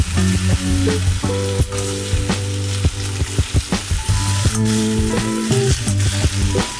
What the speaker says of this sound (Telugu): ఈ ఆలు ముక్కలు వేసేసుకుంటాం. ఒకసారి కలుపుకోండి.